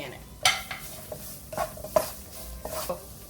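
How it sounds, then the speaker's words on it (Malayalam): Chopped onions dropped into hot oil or butter in a pan for white-sauce pasta, with a few sharp clinks and scrapes of a stirring spoon over a faint, low sizzle. "അപ്പോൾ ഇനി അതിലേക്ക് ചോപ്ഡ് ഒനിയൻസ് ഇട്ടു"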